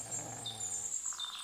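A dog growls in Kingdom Come: Deliverance 2, a low, steady rumble running close and continuous for about a second and a half, with no voices over it.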